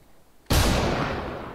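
A single loud, booming gunshot or blast goes off in an online shooter game after a moment of near silence. It is heard close up and rings out in a long, fading tail.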